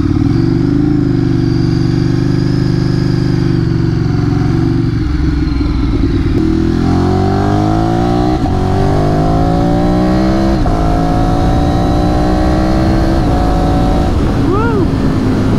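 A Streetfighter motorcycle revs loud and close, then pulls away, its engine note climbing through the gears as it rides off.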